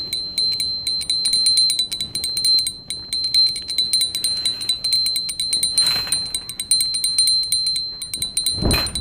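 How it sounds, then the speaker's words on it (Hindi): A small hand bell rings steadily and continuously during a Hindu aarti after the Narasimha stuti, bright repeated strikes close by, with a couple of brief louder knocks toward the end. "नरसिंह स्तुति के बाद घंटी बजाते हुए"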